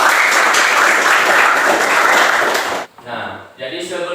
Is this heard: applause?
yes